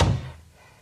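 A single heavy thunk as a door is yanked open by its handle, a loud close impact that quickly fades into quiet.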